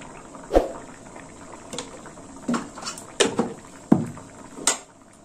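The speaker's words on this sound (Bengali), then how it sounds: "এবার একটু ভালো করে ফুটবে।" Moong dal cooked with banana flower bubbling in a pot, sparse separate plops and blurps popping up every second or so, close and moderately loud over a quiet background.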